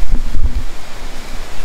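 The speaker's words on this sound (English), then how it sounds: "So over here, it gets extremely windy, right?" Strong wind at the Ban Pakkad border crossing between Thailand and Cambodia buffets the microphone with low rumbling gusts, rushing steadily with no voices.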